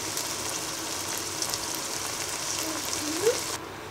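Chopped green chilies added to a cooked-down spice paste for Bangladeshi chicken curry give a soft, steady low sizzle and bubbling, faint and continuous.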